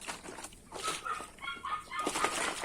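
Chickens in a newly built laying coop, close clucks and short squawking calls from several hens, with bursts of wing flapping and rustling between calls.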